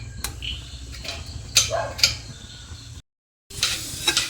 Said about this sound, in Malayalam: നല്ല രീതിയിൽ നമ്മളൊന്ന് വഴറ്റി എടുക്കുന്നുണ്ട്.